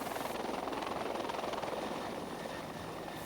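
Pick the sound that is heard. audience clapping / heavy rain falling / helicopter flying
helicopter flying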